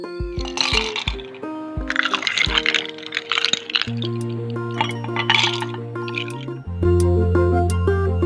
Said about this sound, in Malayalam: അതിലേക്ക് ആദ്യം ഐസ് ക്യൂബ്സ് ഇടാം.